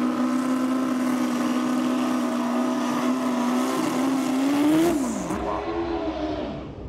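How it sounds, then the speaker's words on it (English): Drag racing motorcycles doing burnouts at Santa Pod, a loud steady engine drone that holds one pitch, then bends up and down before cutting off near the end. "Lots of rubber put down in the burnouts from both riders"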